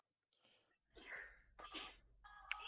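A person sneezes at a tabletop Dungeons & Dragons session, a quiet breathy buildup followed by two or three soft, close sneezes in quick succession, fairly faint overall.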